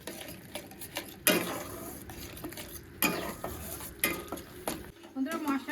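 A spice paste of turmeric, coriander powder and red chilli powder with tomato is stirred and fried in a pan, with scraping strokes recurring roughly every second over a steady sizzle, close and fairly loud.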